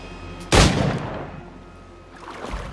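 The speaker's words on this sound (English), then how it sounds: "Shoot that ship." One heavy cannon shot fired at a ship in Assassin's Creed IV Black Flag, a sudden loud blast trailing into a rumbling decay, followed by faint ambient noise and a soft thud near the end.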